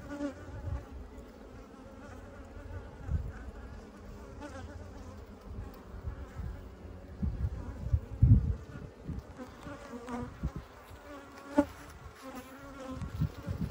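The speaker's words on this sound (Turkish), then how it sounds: "Erkek arılar var." Drone honeybees buzz around an opened hive during a spring colony split, a continuous droning hum with individual bees swelling louder as they pass near, no talking.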